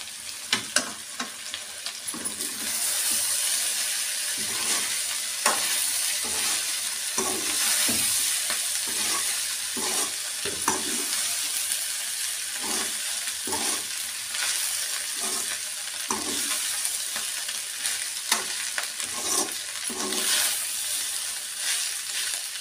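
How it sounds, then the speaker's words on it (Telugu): Vegetable fried rice is stirred in a pan over a high flame, with a steady close sizzle of frying and repeated scraping strokes of a ladle, heard alone without talk. "ఇప్పుడు మనం దీన్ని మెల్లిగా అట్లా లో హై ఫ్లేమ్లో"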